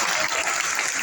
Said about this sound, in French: Encore un grand applaudissement.